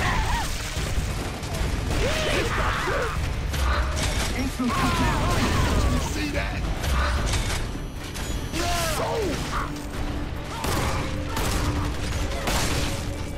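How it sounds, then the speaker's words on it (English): A new semi-automatic sniper rifle in Gears of War: Judgment free-for-all multiplayer fires several sharp, spaced shots amid mechanical clanks and game noise, with someone talking over it. "what you guys are looking at right now is the new semi-automatic sniper rifle that they're adding into Gears of War Judgment."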